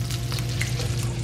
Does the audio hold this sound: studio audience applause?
no